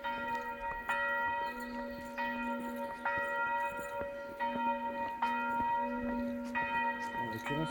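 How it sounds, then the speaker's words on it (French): A single small church bell rings at noon in the countryside between Saint Amans des Cots and Bez Bédène, sounding repeated clear strokes about once a second with long overlapping ring-outs, moderately distant, with no talk. "Il est midi. Les cloches sonnent."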